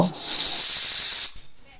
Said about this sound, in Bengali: প্রেশার কুকারে আমরা দুটো সিটি দিয়ে নামিয়ে নেব